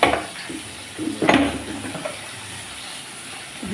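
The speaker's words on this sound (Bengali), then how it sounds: "মাছ ভাজার সাথে সাথে আমি মশলাটাও করে নিচ্ছি।" Pieces of bata fish fry in a pan with a soft background hiss. Clattering pot and utensil knocks sound intermittently and close by, with no one speaking.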